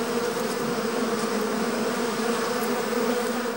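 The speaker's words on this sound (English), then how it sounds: "The artificial hive offers the bees safe housing, and the beekeeper a chance of easy access to combs full of honey." Honeybees drone steadily at an artificial hive, a dense continuous buzz of many insects at close range with no voices.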